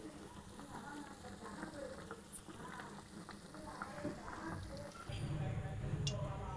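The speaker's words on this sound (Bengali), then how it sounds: "এরকম লাল করে ভাজবো, একটু ক্রিস্পি ক্রিস্পি ভাব হবে।" Chicken cheese French toast sizzles and crackles steadily in a frying pan, a continuous close frying hiss that grows slightly louder near the end.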